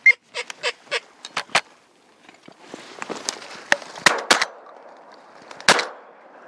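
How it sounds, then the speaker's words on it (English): Several sharp 28 gauge shotgun blasts ring out during a teal duck hunt at a muddy pond, a quick volley of reports at the start followed by scattered louder shots amid rustling and movement. "Nice shot, Tyler."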